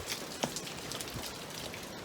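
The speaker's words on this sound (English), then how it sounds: "It is pouring rain" Pouring rain during a Canadian tornado warning, a dense steady hiss of drops hitting surfaces outdoors with a sharp knock near the start, fairly loud and continuous.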